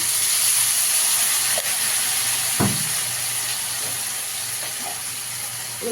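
Tomato, green chili and ginger paste sizzles in a frying pan, a steady, loud hiss throughout with a brief clatter partway.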